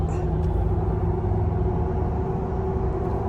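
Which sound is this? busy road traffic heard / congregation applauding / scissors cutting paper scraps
busy road traffic heard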